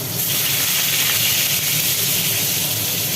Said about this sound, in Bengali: তেলে পড়ছে পটল এই পটলগুলো ভাজা হবে একদম আস্ত পটল